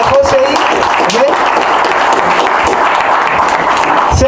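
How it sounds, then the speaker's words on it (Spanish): A church congregation applauds the Lord together, steady dense clapping filling the room for several seconds, with voices calling out over it. "demos un aplauso al Señor"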